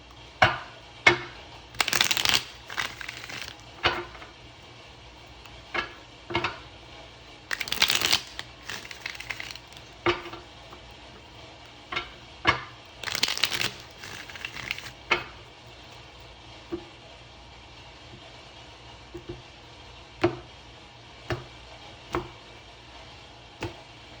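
A tarot deck is shuffled by hand close up in repeated bursts, with crisp riffling flurries and soft card taps scattered between them, no talking.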